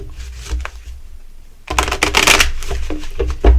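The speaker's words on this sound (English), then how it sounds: "We're going to shuffle the deck." A deck of tarot cards being shuffled, with a quiet riffle followed by a louder, denser burst of flicking cards close by.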